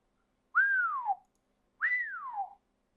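Two clear whistled notes, each rising then sliding down, separated by a short pause, close and fairly loud.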